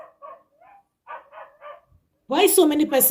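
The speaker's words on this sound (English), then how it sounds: "I don't know where that dog is shouting from." A dog barks outdoors in a few short, distant yips and barks before a voice starts talking loudly nearby.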